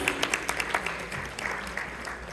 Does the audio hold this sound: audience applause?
yes